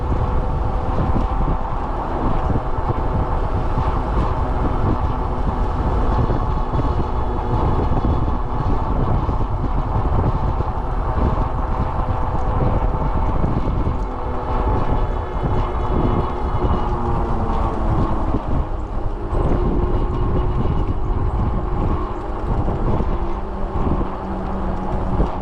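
Strong wind buffets the microphone on a bike ride toward the Upper Tampa Bay Trail, a loud, steady roar with low rumbling gusts that runs unbroken throughout.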